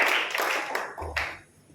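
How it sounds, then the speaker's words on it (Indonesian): Audience applause inside a church during a Sunday service, a short burst of clapping that swells and then fades within a couple of seconds, moderately distant. "tepuk tangan untuk yang lahir tahun 60"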